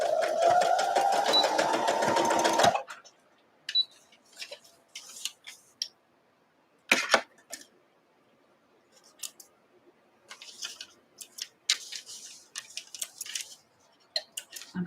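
A sewing machine back stitching a seam at a short stitch length, a loud rapid whirring run at first, then quiet snips and faint scattered clicks of handling after the motor stops.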